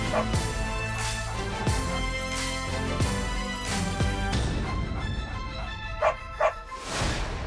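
Several puppies bark and yip in quick bursts, with a few sharper high yelps near the end. The sound is close and moderately loud over a faint steady background.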